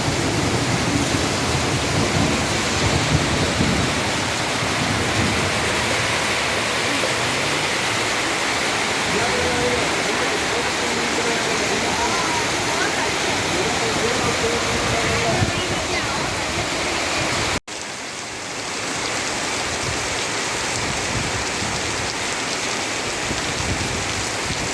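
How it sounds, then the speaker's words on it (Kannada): Hail and rain fall in Hulikal village, Arakalagudu taluk, Hassan district, as a loud, continuous, dense roar of pelting precipitation, broken by one abrupt momentary cut before the steady downpour resumes. "ಹದಿನೈದು ನಿಮಿಷ ಆಲಿಕಲ್ಲು ಮಳೆ ಬಿದ್ದಿರುವ ಸಂದರ್ಭವನ್ನು ನಾವು ನಿಮಗೆ"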